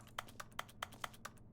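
In Stanley Parable: Ultra Deluxe, a mouse clicks quietly about seven times in a steady, quick rhythm, each click short and crisp over a low background hum.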